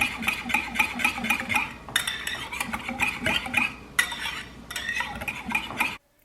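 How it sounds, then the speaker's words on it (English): Waffle batter is stirred briskly in a bowl with a utensil, a steady run of close scraping and clinking strokes that continues for several seconds with only short pauses, then stops abruptly. "Mix well."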